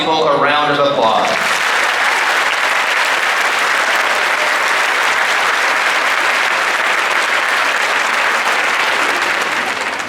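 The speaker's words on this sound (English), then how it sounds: "Please join me in giving all of these people a round of applause." Sustained applause from a high school graduation audience, loud and steady for about ten seconds after a brief moment of speech at the start.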